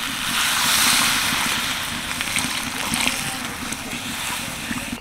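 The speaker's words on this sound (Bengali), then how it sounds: "এবার দিয়ে দিচ্ছি জল।" Water poured into a cooking pan of spiced chickpea ghugni makes a steady, loud, rushing splash with hiss that runs for the whole stretch, close up.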